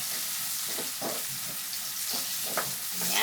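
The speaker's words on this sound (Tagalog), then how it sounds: "Mix lang natin ang ating fresh curry leaves." Fresh curry leaves being stirred into sizzling native chicken in a hot pan, with a steady broadband frying hiss and intermittent scraping stir strokes throughout, close and continuous.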